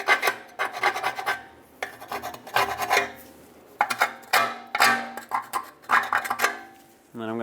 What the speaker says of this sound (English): I'm going to scrape the rust off.